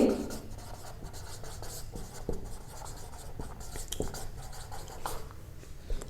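Pen or pencil scratching on paper as notes are written during a seventh-grade geography class, a soft, continuous rubbing with faint room noise and quiet talk in the background.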